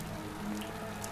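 Unseasonal rain falls steadily, a dense, even patter of drops on surfaces throughout, moderately loud with no voices.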